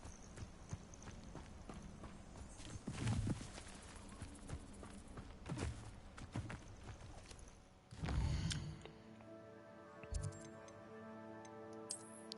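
Soft, steady hoofbeats from a thestral in the Hogwarts Legacy video game tap along in a regular rhythm beneath ambient game music, with a louder swell midway.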